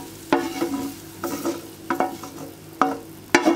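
Sautéed onions tipped into a pot of lentil soup, with a few sharp clanks of a spoon against the pot over a steady wet sizzle and stirring, spaced at irregular intervals.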